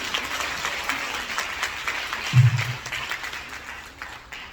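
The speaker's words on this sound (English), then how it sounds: "Can I have a round of applause for all these amazing women?" Audience applause at a women's conference panel event: a steady, moderately loud wash of clapping runs through the whole stretch, with a brief low thump partway through.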